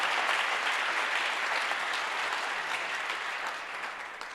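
A church congregation breaks into continuous, dense applause, a full room of hands clapping steadily before gradually easing off.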